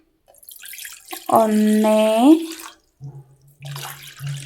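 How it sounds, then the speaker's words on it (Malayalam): Two glasses of water pour into a pot for making tea: a short pour with a ringing tone that rises as the vessel fills, then a low steady hum and a brief spoken word. "ഇതിൻ്റെ അകത്തേക്ക് 2 ഗ്ലാസ് വെള്ളം നമുക്ക് ഒഴിച്ചു കൊടുക്കാം"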